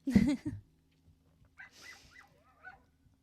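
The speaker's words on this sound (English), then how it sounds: "You hear dogs barking outside, it's mine." An Australian cattle dog barks outside, one or two sharp muffled barks at the start followed by fainter distant yelps and calls, heard from indoors at a distance.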